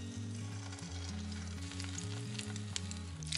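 Soft, continuous sizzling of breaded zucchini rings frying in hot oil in a pan with light crackling, over a low background hum.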